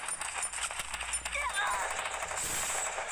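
Rapid bursts of gunfire from the Free Fire battle royale video game crackle through a steady dense wash of game noise, with a voice talking over it.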